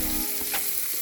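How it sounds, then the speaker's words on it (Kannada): Green chilies frying in a pan for carrot bhaji, a soft steady sizzle with faint stirring scrapes, fairly quiet and brief with no speech. "ಮೆಣಸಿನ್ಕಾಯಿ ಹಾಕೊಂಡು ಚಂದಗೆಲ್ಲ ಮಿಕ್ಸ್ ಮಾಡ್ಕೋತೀನಿ."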